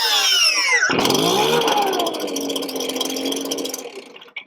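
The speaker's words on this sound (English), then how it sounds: "This is the one with the electric start. Let's check it out. Push the trigger down, push the button down." A backpack leaf blower's engine fires up with its electric start, catching after a short moment and settling into a loud, close, steady roar that fades near the end, with no voices over it.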